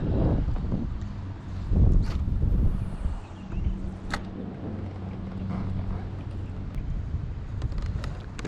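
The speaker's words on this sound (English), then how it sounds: "This wind is annoying today." Wind gusting over Bush Lake in Holly, Michigan during kayak fishing, a low rumbling buffet against the microphone that swells and eases, with faint water and boat knocks underneath.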